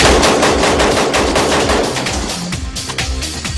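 Sustained automatic gunfire in an L.A.P.D. versus S.L.A. shootout, a loud, dense stream of rapid shots with overlapping reports continuing throughout.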